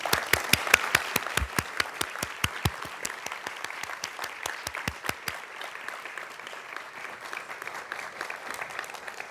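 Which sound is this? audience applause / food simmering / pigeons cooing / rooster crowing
audience applause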